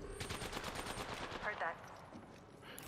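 Rapid bursts of automatic gunfire from an online battle-royale shooter game (Apex Legends), fairly loud and continuous through the first half, then thinning out, with a brief voice partway through.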